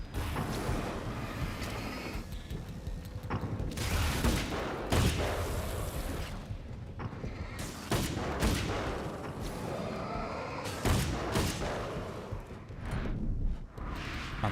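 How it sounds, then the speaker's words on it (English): Flashbang explosions go off in the video game Alan Wake's American Nightmare, a series of sharp, loud broadband bursts scattered irregularly over a dense, noisy game soundscape with no talking. "Those flashbangs?"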